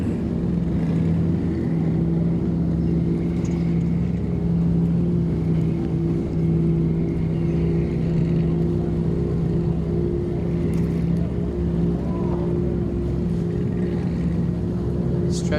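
A racing boat engine roars steadily at a water ski race in Gosford, New South Wales, a loud continuous drone with a steady pitch that persists throughout, alone without voices.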